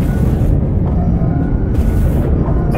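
Artillery fire in the video game Dreadnought, heavy low booms rolling into one another as a continuous, loud rumble with no voices over it.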